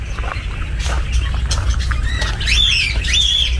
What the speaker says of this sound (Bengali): এখানে অবশ্য পাখি ধরে রাখা হয়েছে, ওদেরই আওয়াজ শুনতে পাচ্ছেন আপনারা।